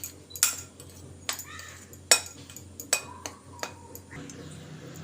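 Wheat flour and gram flour being mixed in a bowl, a series of distinct metallic clinks and taps of a spoon against the bowl, close and sparse, with quiet scraping between the strikes.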